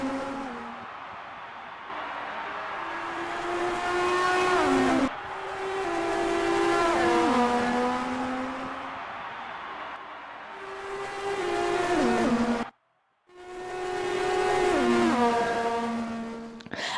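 Formula 1 race cars at the Spanish Grand Prix, high-pitched engines screaming past with rising and falling pitch as they shift gears, loud and continuous with a brief drop to near silence, no talk.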